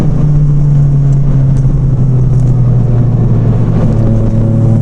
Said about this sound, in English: I said it revs out well and makes a great little noise.